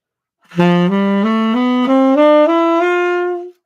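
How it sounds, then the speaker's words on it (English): A solo saxophone plays a G Lydian scale ascending, seven or eight smooth, evenly spaced notes climbing steadily, with a sustained final note. "Here's a Lydian scale starting on G."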